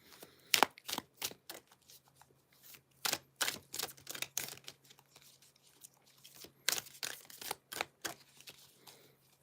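Quick bursts of crisp riffling and snapping cards, repeated in uneven clusters, close up with no talking.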